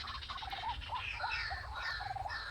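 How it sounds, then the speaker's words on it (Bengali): A jungle fowl call played from a phone: bird calls with rising notes repeat over a rough, noisy background, somewhat tinny and close, with no talking. "মোবাইলের ভয়েস দেখিয়ে বন মুরগির সাউন্ড দেখিয়ে"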